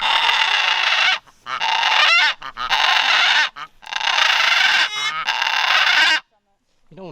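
Parrot in the Amazon rainforest letting out repeated loud, harsh squawks in bursts lasting about a second each, close to the microphone, then falling silent near the end.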